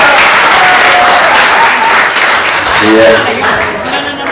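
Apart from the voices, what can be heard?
wedding guests applauding the best man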